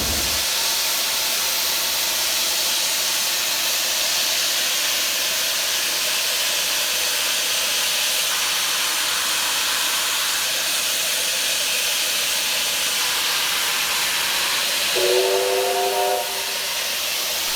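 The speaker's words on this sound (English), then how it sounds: "3801, with its beautiful rhythmic chuffing sound, now heads off towards Lithgow" Steam locomotive 3801 pulling away in New South Wales, giving off a steady, loud rush of steam hiss, with a brief bright whistle sounding near the end.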